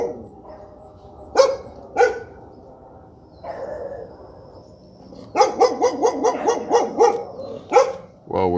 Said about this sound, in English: getting attacked by dogs here.